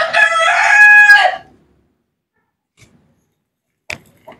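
A single loud rooster crow rings out close by on a small city farm in the Philippines, followed by silence and a few faint clicks and knocks.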